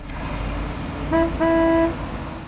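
A car horn honks twice, a short toot followed by a longer blast, over steady traffic noise.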